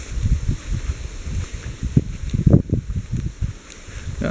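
Strong wind blowing in the Codru Moma mountains, close microphone buffeting and rumbling gusts in uneven bursts, loud and near, with no one speaking.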